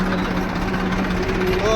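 A farm tractor's engine runs steadily and close by as it turns on a village track, giving a continuous rumbling drone with a knocking, vibrating texture.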